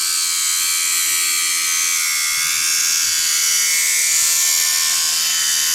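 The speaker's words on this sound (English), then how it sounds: "So we're just cutting it off with a grinder." Angle grinder cutting off a piece of metal to use as a spacer, a loud, steady high-pitched whine held continuously at close range with no talk.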